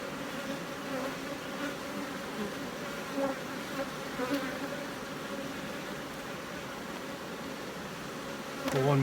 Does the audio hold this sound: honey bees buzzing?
yes